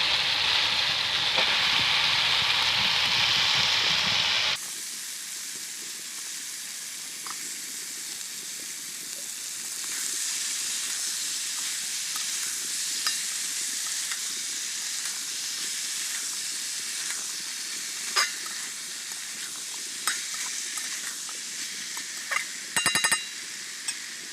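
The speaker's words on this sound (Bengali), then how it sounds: "এবার পুঁই শাকগুলো দিয়ে দিচ্ছি।" Malabar spinach fries in a pan with a loud hissing sizzle that drops to a softer steady frying sound, and occasional scrapes and clicks of stirring follow.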